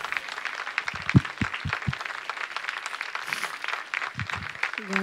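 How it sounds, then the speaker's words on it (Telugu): A congregation applauds during a church service, with dense, sustained clapping that holds for several seconds under a low tonal background. "గట్టిగా చప్పట్లు కొడదామా?"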